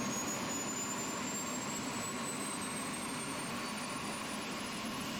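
The engine of an EC135 helicopter is starting up in a flight simulator, giving a steady, dense turbine roar with a high whine that rises slowly in pitch throughout. It is continuous and fairly loud, with no voices.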